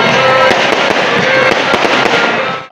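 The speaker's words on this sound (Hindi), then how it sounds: "आतिशबाजी का सिलसिला यहाँ पे जारी है।" Fireworks for an Independence Day celebration on 14 August in Mandi Bahauddin, a dense, loud burst of rapid crackling bangs that runs without a break and cuts off at the end.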